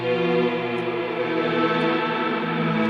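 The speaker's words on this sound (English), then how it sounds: "this is the Mercury 7" Mellotron samples run through a Meris Mercury 7 reverb pedal, giving a sustained, washy synth-like pad with dense stacked harmonics that blur together under a long, steady reverb tail, holding even loudness throughout.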